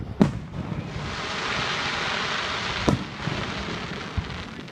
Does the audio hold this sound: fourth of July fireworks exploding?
yes